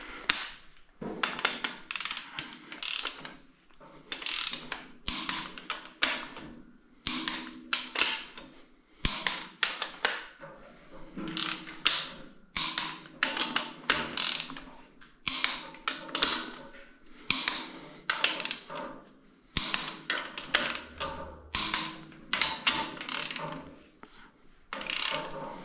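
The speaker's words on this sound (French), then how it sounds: "Allez, maintenant 90 degrés, prendre le cliquet extensible." An extendable ratchet wrench turns bolts on a 1.8 20-valve turbo engine, tightened to 65 Nm plus 90 degrees: rapid bursts of metallic clicking come in repeated strokes with brief pauses, close and clear.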